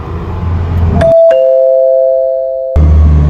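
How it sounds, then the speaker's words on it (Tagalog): An electronic doorbell at a house chimes twice, a near, loud two-tone ding-dong that rings out clearly in quiet between stretches of background noise. "Doorbell muna tayo."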